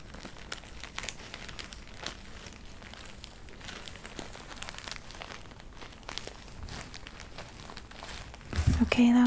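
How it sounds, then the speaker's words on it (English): Paper crinkled at a distance, a faint, steady rustle and crackle running throughout, with a louder clatter near the end. "Okay, I'm gonna crinkle this from far away."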